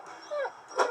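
A video game dog gives a couple of short, yipping barks, close and fairly clear, with a brief whine between them.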